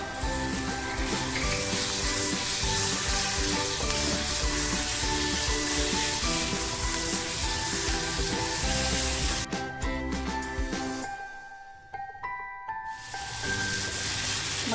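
Chopped tomato fries with homemade masala in a pan, a loud dense sizzle that holds steady, then briefly drops and thins near the end before returning.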